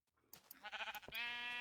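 A Minecraft sheep bleats once after a short scuffle of game sounds, a close, nasal, wavering baa that holds steady to the end.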